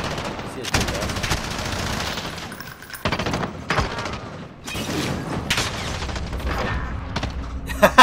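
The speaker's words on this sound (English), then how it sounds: "He's shooting at me" Rapid gunfire bursts and single shots in a Call of Duty: Modern Warfare multiplayer gunfight, loud and repeated across the whole stretch, with players talking over them.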